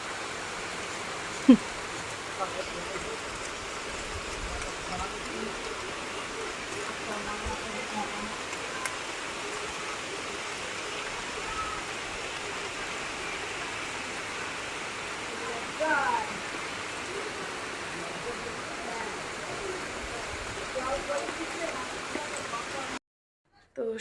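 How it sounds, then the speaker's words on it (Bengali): Light drizzle falls over the surroundings during a cloudy afternoon, a soft, even, steady hiss with a few faint thin clicks, continuing unbroken for the whole stretch before cutting off abruptly at the end. "আর এসেছে ঝিরিঝিরি হয়ে বৃষ্টি খুব একটা জোরে পড়ছে না ওই চারিদিকটা ভেজার মতো"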